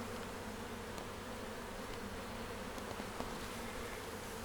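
Honeybees buzzing at a hive, a faint, continuous hum under a hissy background with no voices.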